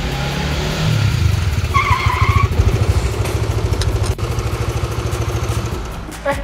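An automatic scooter motorcycle arrives to park, its engine putting loudly with rapid pulsing firing, swelling as it nears then settling to a steadier idle-like putter, with a faint high tone briefly above.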